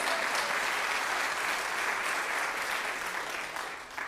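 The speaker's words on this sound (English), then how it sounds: "let's give them a round of applause" A training workshop audience applauds steadily throughout, a dense wash of many hands clapping at a fairly even level from start to finish, tapering slightly near the end.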